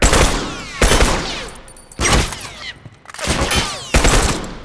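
Several bursts of loud, close gunfire from The Last of Us Remastered, rapid automatic volleys separated by short pauses, with sharp echoing cracks trailing off between bursts.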